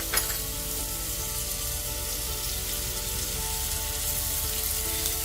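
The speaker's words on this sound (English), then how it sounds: "we're going to fry our Thai chilies in a little oil there at the side" Thai chillies fry in a little oil beside cooking bacon, a loud, continuous close-up sizzle with a faint stirring sound at the start.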